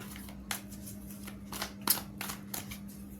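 Tarot cards being shuffled and drawn, with several soft papery riffles and slaps spread across a few seconds over a steady low hum, quiet and close.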